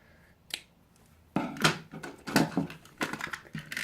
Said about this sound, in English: there's the scissors